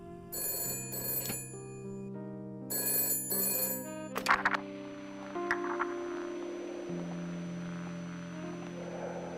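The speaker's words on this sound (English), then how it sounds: "but then the phone rang" In the video game Shadows of Doubt, a telephone rings in an apartment with two pairs of bright electronic bell bursts, followed by a click, a brief rattle, and a lingering low tonal hum.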